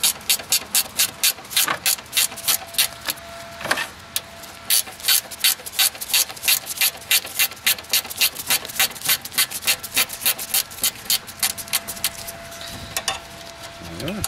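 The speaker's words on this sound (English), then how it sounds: "There's our 10 mil ratcheting wrench." A 10 mm ratcheting wrench working bolts loose under the hood of a Mazda Miata, a loud close run of rapid, evenly spaced ratchet clicks repeating in strokes, with occasional talk.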